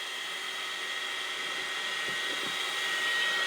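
Steady, close whooshing roar of an electric hair dryer blowing over a watercolour landscape painting and its masking tape, running continuously without pause.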